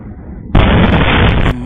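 A loud, sustained explosive roar erupts suddenly and holds for about a second before cutting off, like a nearby blast or rocket strike in wartime Crimea or Russia.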